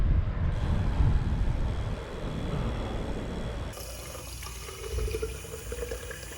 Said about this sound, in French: Petite pause ravitaillement en eau.